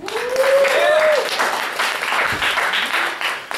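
Audience applause at a poetry and jazz gala swells quickly and holds steady for a few seconds, a dense crowd of clapping hands with a voice rising briefly over it near the start.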